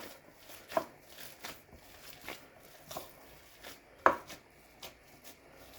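Soft, irregular squishing and patting of a potato köfte mixture with breadcrumbs being kneaded by hand, with occasional sharper slaps; quiet and close.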